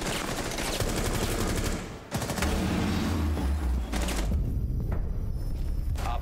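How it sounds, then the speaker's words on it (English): Rapid bursts of gunfire in a Rainbow Six Siege match, with dense automatic fire filling the first two seconds, then continuing shots and booms that thin into a quieter tail near the end. "This guy, I'm shooting at Rook"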